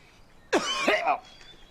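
One short, close cough with a raspy, throat-clearing edge, standing alone against near silence.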